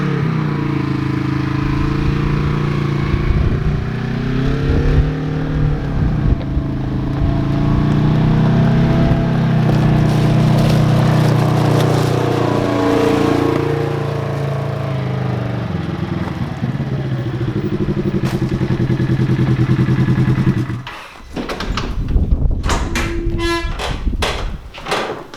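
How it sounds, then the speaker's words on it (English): Polaris Ranger side-by-side engine driving back and forth down a driveway, a loud steady motor drone rising and falling with throttle for about twenty seconds, then cutting off, followed by clunks and clatter. "let me go ahead and drive it back and forth down the driveway, make sure that the suspension is settled"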